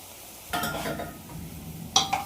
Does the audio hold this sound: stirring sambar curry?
yes